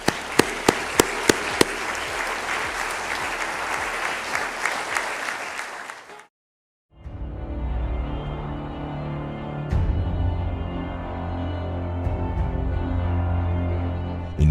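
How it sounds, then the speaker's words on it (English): Audience in Ghana clapping for an award recipient honoring the President, opening with a few sharp isolated claps before broad, sustained applause that cuts off abruptly, followed by a low rumbling background. "So please give him a round of applause."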